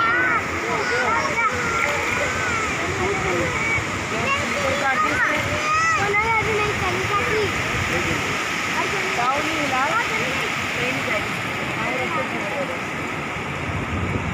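Steady sea water sloshing and splashing around someone wading along the shore at Clifton Beach in Karachi in the morning, with waves and wind throughout and voices talking over the water.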